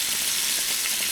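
Deer burger seasoned with Kinder's prime steak seasoning fries with a dense, steady sizzle and crackle, close and continuous, with no voices.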